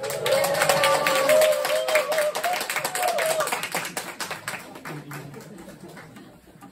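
A church congregation claps and shouts praise as the pastor arrives, loud rapid clapping with a sung or shouted vocal line over it at first, then thinning and fading out.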